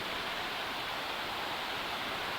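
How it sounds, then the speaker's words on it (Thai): Steady broadband rush of the waterfall at Phlio Waterfall National Park in Chanthaburi, Thailand, with water falling from above, continuous and even, with no voices. "ชมสายน้ำที่ไหลลงมาจากด้านบนนะครับ"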